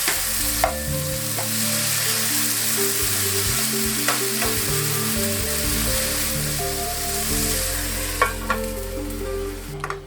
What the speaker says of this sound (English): And add the sausage. Let that fry for a minute.